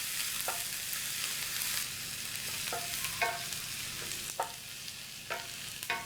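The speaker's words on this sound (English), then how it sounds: "I'm going to add the olive oil. Add the shallot. Onion. Cook it until soft." Shallot and onion fry in hot olive oil in a pan, giving a soft, steady sizzle broken by several sharp scraping stirs at irregular intervals.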